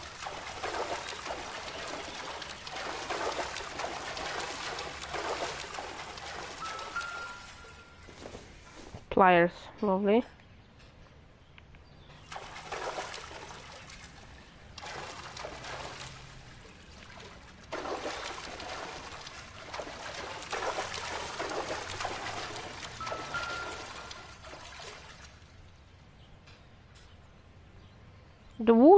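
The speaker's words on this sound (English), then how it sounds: "The water is pouring down still." Water pours steadily down inside a burning basement in the video game L.A. Noire, a soft, continuous splashing trickle with brief breaks while someone talks over it.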